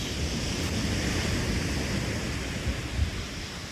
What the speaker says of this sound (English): And these scary bloody waves.